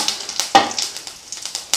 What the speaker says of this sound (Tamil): கடுகு நல்லா பொரிஞ்ச உடனே